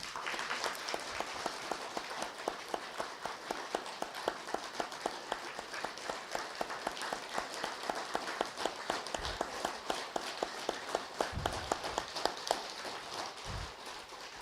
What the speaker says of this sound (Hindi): थोड़ी तालियां बजाएंगे जरा।